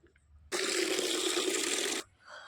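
Water poured out in a single steady rushing stream, starting abruptly and cutting off about a second and a half later, loud and close against a quiet background.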